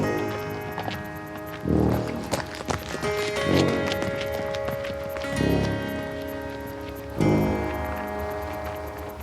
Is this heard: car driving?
no